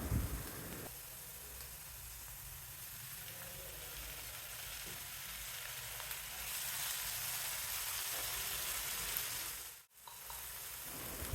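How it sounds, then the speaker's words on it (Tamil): A cup of finely chopped tomatoes sautés with onions in a pan, giving a steady, moderately quiet sizzle that swells slightly midway and cuts out for a moment near the end. Nobody speaks. "இப்போது 1 கப் அளவுக்கு பொடிசாக வெட்டின தக்காளியும் சேர்த்து வதக்கலாம்."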